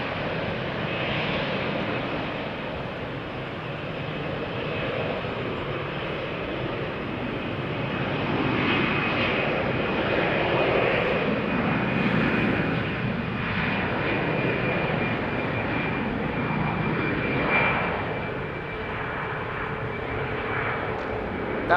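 An airliner passes at Amsterdam Schiphol Airport, its steady engine roar broad and fairly loud, swelling slightly toward the middle and holding a continuous rumble throughout.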